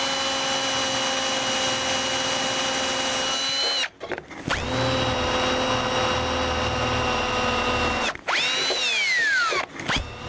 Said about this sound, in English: now I'm going to drill my hole for my screw.